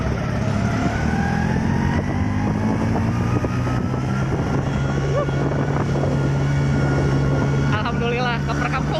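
A convoy of motorcycles, including an off-road Vespa, rides a road toward a village, making a steady, close engine drone with wind buffeting the microphone while someone talks.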